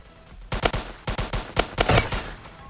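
Several gunshots from the Roblox shooter Polyguns ring out in quick bursts, sharp loud cracks arriving in irregular clusters of two or three, with brief pauses between volleys and no talking.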